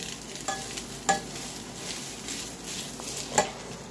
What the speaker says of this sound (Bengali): এবার একটু ঘির সাথে ভালো করে একটু নাড়াচাড়া করে নিই